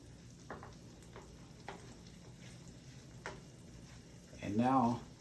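Ground meat frying in a pan, a faint steady crackle with occasional scraping stirs as it is broken up, and a voice speaking briefly at the end.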